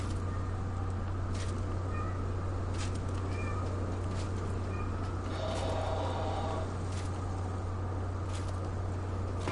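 A cat meows in the video game Lies of P, a short mewing call rising faintly out of a steady low hum and soft room noise, with no one talking.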